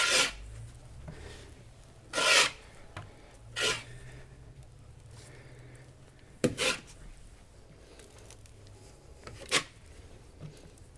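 A trowel works thickening epoxy adhesive across a camper van floor ahead of marine vinyl, giving soft scraping rubs with several louder rasping strokes at about 2, 3.5, 6.5 and 9.5 seconds, close up and without talk.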